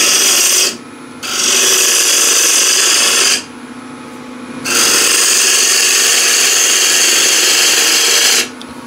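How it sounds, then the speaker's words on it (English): A spindle gouge roughs out a wooden blank spinning on a lathe, a loud hissing, rasping cut that stops and restarts in long bursts with brief quieter gaps between them. "if I would use spindle gouge to rough out, let's say, the blank"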